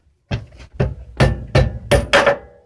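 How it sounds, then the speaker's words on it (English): A mallet smacks a suspension bolt out on a Mitsubishi Lancer Evolution fitted with Airrex air suspension, six sharp, close blows landing in a steady rhythm about a third of a second apart. "I can't do this with one hand, so smack it until the bolt comes out"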